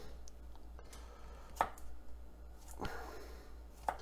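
A clove of garlic chopped with a knife on a cutting board, three distinct sharp knife strikes spaced about a second apart, close and fairly quiet over a low background hum.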